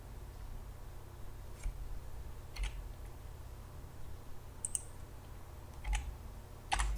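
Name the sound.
computer keyboard shortcut clicks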